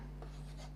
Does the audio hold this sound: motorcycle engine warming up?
no